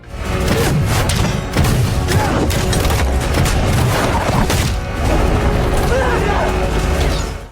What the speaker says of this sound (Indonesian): penembakan balista atau busur panah raksasa